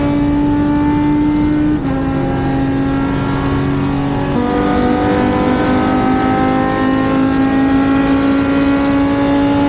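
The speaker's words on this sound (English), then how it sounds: "this BMW V10 that's running really well" A BMW V10 engine in a Lotus T125 race car revs steadily and loudly, its high-pitched harmonic drone stepping up in pitch a couple of times as it climbs through the revs, with no voices over it.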